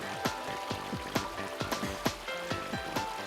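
Shallow flowing water turns a small portable water turbine, giving a faint, quick run of regular splashy ticks and drips close by.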